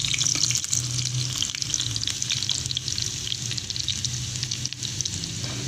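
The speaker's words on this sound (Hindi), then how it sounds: "ये हम ज़ीरा कर देंगे ब्राउन।" Cumin seeds frying in hot oil for a dhaba-style chana dal, a steady close sizzle with crackling bursts running throughout, loud and continuous with no voices.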